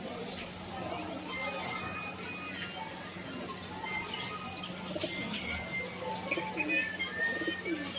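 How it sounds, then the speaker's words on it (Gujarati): Soft cooing of two pigeons, one white and one black, repeats in the background alongside faint chirps and a low steady outdoor hum after heavy rain. "એક ધોળું ને એક કાળું કબૂતરું છે જો"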